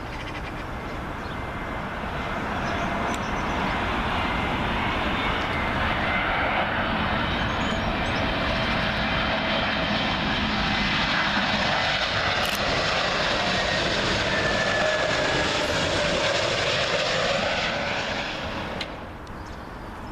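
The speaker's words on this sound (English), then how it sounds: "Next arrival in from JFK, JetBlue A321neo." A JetBlue Airbus A321neo arriving from JFK passes overhead on approach to Heathrow runway 27L, its jet roar swelling loud and steady for most of the pass before fading, with faint birdcalls in the background.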